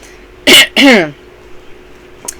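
A person gives two harsh, close coughs in quick succession, followed by quiet and a faint click.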